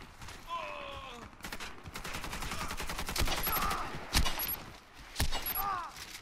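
Calico submachine gun firing in the online shooter Warface, with rapid bursts of automatic fire over a busy game soundscape, several sharp louder cracks standing out near the end.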